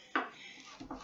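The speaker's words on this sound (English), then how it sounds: "You take your knife and you begin to cut that chili" A knife cuts stew beef into thumb-sized chunks for chili, giving one sharp tap of the blade on a board followed a moment later by two softer knocks, close and fairly quiet.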